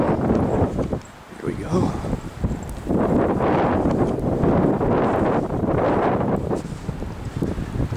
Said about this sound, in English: And that wind is still whipping.